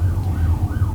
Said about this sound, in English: right now I'm driving past some sirens, so we'll see how this picks up